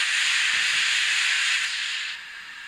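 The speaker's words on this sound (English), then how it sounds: "Number 2 is the vacuum brake." An N gauge DCC sound-fitted model steam locomotive, 5029 Nunney Castle, releases a steady, bright vacuum brake hiss that holds for about two seconds, then drops to a softer hiss.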